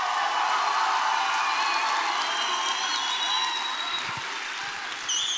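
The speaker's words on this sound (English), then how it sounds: "Can I have somebody clapping hands for Jesus?" Church congregation at a prophetic worship service clapping hands, a dense crowd roar with whoops and cheering voices mixed in, loud and continuous, easing slightly toward the end.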